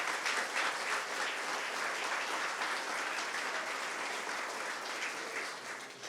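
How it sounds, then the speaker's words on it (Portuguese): A church congregation applauds during a service, a dense, steady wash of clapping that holds for several seconds at moderate level and fades slightly toward the end. "Vamos aplaudir ao Senhor"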